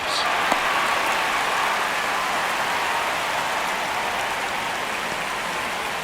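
A stadium crowd in MLB The Show 26, a baseball video game, gives a broad continuous roar of cheering and murmur, steady and full throughout with no clear voices standing out.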